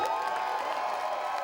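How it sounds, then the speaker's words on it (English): A stadium crowd at a Temple Owls football game roars and cheers steadily, a dense, sustained wash of voices without any single clear shout. "the crowd is pumped up along with the team"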